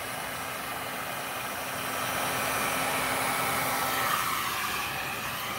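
Air blower blowing white resin into colored resin for a Dutch pour: a steady, close whooshing airflow that grows slightly louder midway and holds continuous with no breaks.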